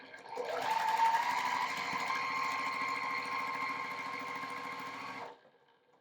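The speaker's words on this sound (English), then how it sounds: "I'm going to chain piece these as I sew along one side of each of them." A domestic sewing machine chain-pieces quilt block pieces, running in one steady, close hum for about five seconds before stopping.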